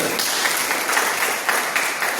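Loud, dense applause fills the room at a business success seminar in Godda, Jharkhand, a continuous roar of many hands clapping together without pause for the whole stretch.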